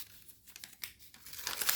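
Paper being folded into an origami flare, soft close crinkling and creasing rustles that swell into a louder crisp crumple at the end, quiet and without speech.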